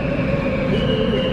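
Warsaw Metro Škoda Varsovia train running on line M1, a steady low rumble of wheels and traction motors with a faint high whine, heard from inside the moving car, continuous and fairly loud.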